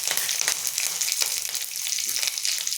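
Curry leaves crackle and sizzle loudly in hot oil in a Tamil-style curry pan, giving a dense, continuous spitting hiss with small pops throughout.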